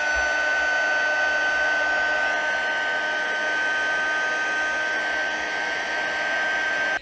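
A heat tool melts embossing powder on a small piece for paper crafts. It gives a loud, steady blowing whir with a fixed high whine that runs unbroken throughout.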